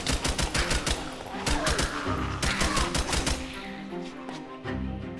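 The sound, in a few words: gunfire in a video game, Deceased Craft Minecraft pack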